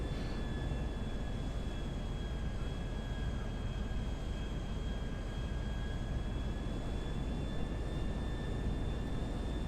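Plane engine in flight in the video game GTA V, a constant low droning hum with faint steady whines above it, quiet and unchanging throughout.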